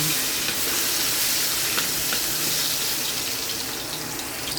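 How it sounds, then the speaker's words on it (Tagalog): Garlic sizzles in hot cooking oil in a pan, a dense, steady, loud hiss that continues without a break, close by and with no voices. "Naglagay na po ako ng mantika sa kawali. Sunod po ay bawang."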